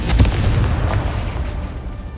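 A Confringo blasting spell goes off in the Hogwarts Legacy video game, a loud booming explosion with a sharp burst at the start and a rumbling decay that rolls on for about two seconds.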